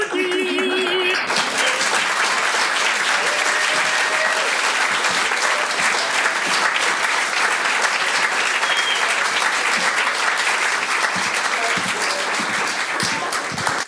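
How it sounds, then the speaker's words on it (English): A live audience at a storytelling event applauds warmly and continuously, a loud, even wash of clapping that holds steady from start to finish with no talk over it. "Let's give Donna another big round of applause."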